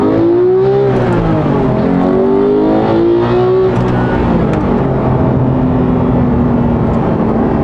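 A Porsche 991.2 GT3 engine revs hard toward 9000 rpm, its loud, high-pitched wail climbing and dropping through gear changes, then holding a steady roar under sustained load.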